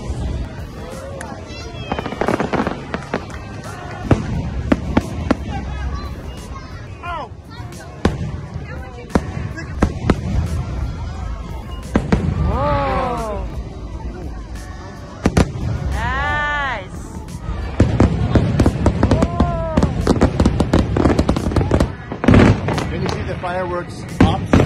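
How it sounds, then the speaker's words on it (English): Nighttime fireworks at Disneyland burst and crackle in rapid, booming volleys, loud and dense, while a crowd cheers and people talk and shout nearby throughout. "But we didn't want to miss the fireworks."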